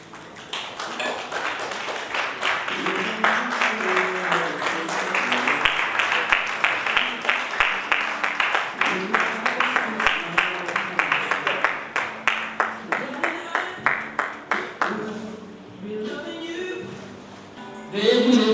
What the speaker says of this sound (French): Veuillez l'applaudir, s'il vous plaît.